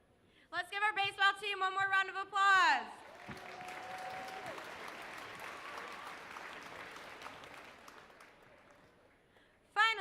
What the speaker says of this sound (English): Let's give our baseball team one more round of applause.